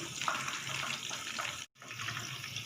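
Fish pakora fries in oil over moderate heat, a steady close sizzling hiss that continues evenly apart from one brief break.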